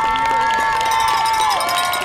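Crowd noise from spectators cheering on runners at a 5K race on a university campus, a steady roar with whistle-like tones running through the whole moment.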